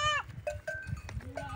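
Sheep and goats bleat at a rural farm in Brazil, several overlapping bleats of different pitch, near and clear over low shuffling and rustling, with no speech.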